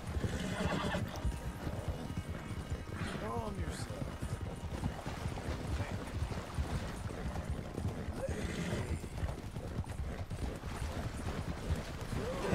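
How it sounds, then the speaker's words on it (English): Nokota horse galloping in Red Dead Redemption 2: continuous, fairly quiet hoofbeats with a few neighs and whinnies over an outdoor ambience, under a steady wash of game sound. "And clearly the Nokota was the fastest horse."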